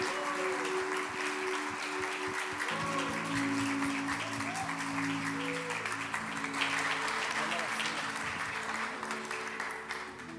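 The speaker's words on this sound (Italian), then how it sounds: "Possiamo fare un applauso al nostro gruppo di lode." A church congregation applauds its worship group during a Sunday service. The steady clapping fills the room continuously, with sustained musical tones and some voices underneath.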